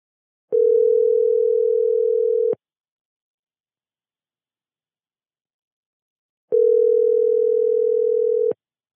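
A telephone tone heard while placing a call to someone: two long, steady, clear beeps about two seconds each, separated by several seconds of silence, with no voices.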